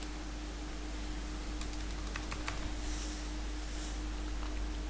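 Computer keyboard typing in short, quiet bursts of clicks over a steady background hiss and hum, with no voices.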